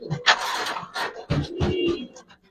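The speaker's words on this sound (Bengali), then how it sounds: "সুন্দর একটা কবুতর দেখাবো, বাচ্চা সহ আছে।" Pigeons coo from a breeding pair kept by a seller in Mirpur 13, Dhaka, a series of soft, low, throaty calls repeating close by, with no voices.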